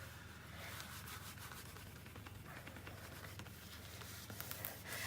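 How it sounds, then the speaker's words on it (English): A cake board being rubbed and polished by hand, a soft, faint repeated swishing and scraping close by, continuous with light rhythmic strokes. "So I'm shining up my board."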